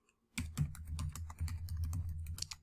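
Rapid typing of a search on a computer keyboard, a close, steady flurry of clicking keystrokes starting abruptly and continuing with brief pauses, no talk.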